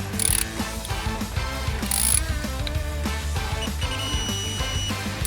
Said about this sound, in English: So it's important that all the bolts are torqued to the same value.